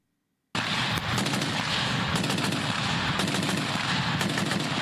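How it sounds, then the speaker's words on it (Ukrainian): A Browning M2 heavy machine gun fires in a continuous, dense roar of rapid shots, loud and close, starting abruptly after a short silence and sustained to the end with no talk. "Цей американський кулемет Браунінг М2 має високу точність."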